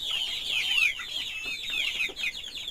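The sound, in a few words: Aseel rooster clucking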